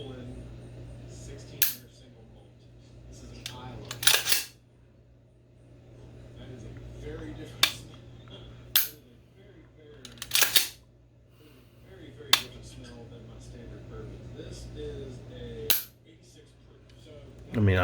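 The trigger of an empty Q Sugar Weasel 300 Blackout rifle is dry-fired several times, each a sharp, close metallic click separated by pauses of a few seconds, with someone talking quietly between them.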